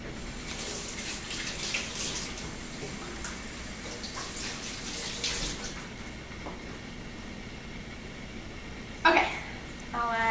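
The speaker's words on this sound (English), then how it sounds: "put those in the sink," Water runs steadily from a kitchen sink tap as hands are washed during home muffin baking, a soft continuous hiss with a brief clatter near the end and a voice at times.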